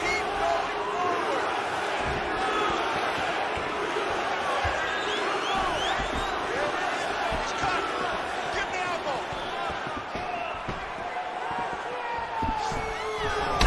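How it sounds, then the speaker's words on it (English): An arena crowd murmurs and reacts during a PS5 UFC octagon fight between Choi Doo-ho and Curtis Blaydes, a continuous dense crowd bed with scattered thuds, while commentators talk over it. "that punch elicited a reaction from the crowd"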